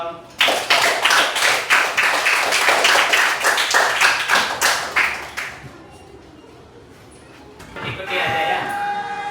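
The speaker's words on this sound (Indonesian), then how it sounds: "Baik sekali, tepuk tangan dong." A classroom of students claps hands together in a steady rhythmic beat, about a dozen sharp, loud claps in a row, then falls quiet before faint room noise and movement return.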